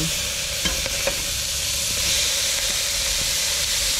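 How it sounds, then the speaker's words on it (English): Beef patties searing in a pan over medium heat, giving a steady sizzling hiss with a few faint scraping taps as they are pressed flat, and no voices. "We're getting our beef rounds in the same pan over medium heat, flattening them until they develop a crust"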